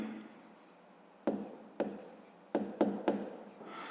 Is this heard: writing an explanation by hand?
yes